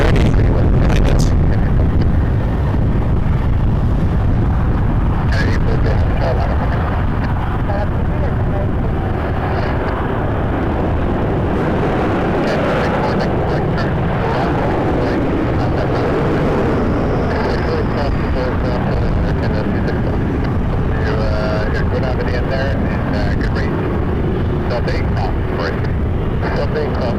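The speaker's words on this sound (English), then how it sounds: "And then we got ourselves an A330 behind us." Airbus A330 airliner at Toronto Pearson Airport, a continuous loud jet roar with wind buffeting the microphone, heard alongside an ongoing voice throughout.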